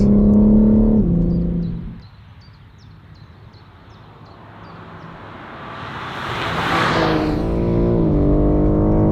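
A BMW M3 Competition G80 lapping Goodwood, its engine loud and close as it revs up, then falling away into a quieter whoosh before a rising pass and renewed strong acceleration, with no talk.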